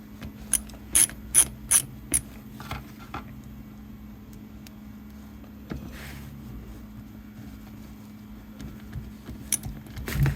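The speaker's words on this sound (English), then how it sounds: "use your screwdriver and just simply put the two Phillips screws back in place" A screwdriver drives two Phillips screws into a Daewoo/Kenmore refrigerator fan motor, starting with a quick run of sharp ratcheting clicks, then sparse mechanical clicks and creaks over a low steady hum, close up.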